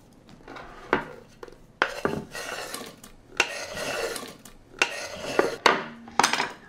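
Apple pieces go into a cooking pot with a cinnamon mixture, a series of clattering knocks and scrapes of utensils against cookware, fairly close and fairly quiet, with no talking.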